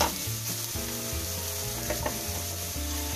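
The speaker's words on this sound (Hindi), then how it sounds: "अब मैं ग्रेटेड कैरेट डाल रही हूँ, 2 चम्मच मैंने यहाँ पे लिया है। इसे भी थोड़ा सा हिला लेते हैं अच्छे से।" Grated carrot stirred in a hot frying pan gives a steady, close sizzle with soft scraping strokes throughout.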